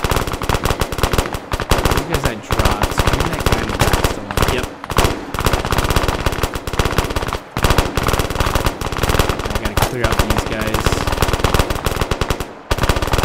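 Sustained automatic gunfire in the video game Arma 3, a loud dense rattle of rapid shots with only brief pauses between bursts.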